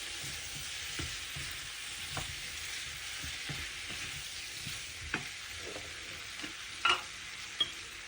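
Baby potatoes frying with chopped chilli give a soft steady sizzle, with scattered scrapes and clicks of a spoon stirring them in the pan, close and unhurried.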